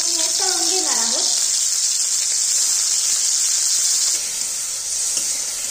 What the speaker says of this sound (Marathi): आपण पनीरचे तुकडे घेतलेले आहेत ना ते ह्याच्यामध्ये टाकायचे आणि थोडस लालसर होईपर्यंत आपण हे तळून घेणार आहोत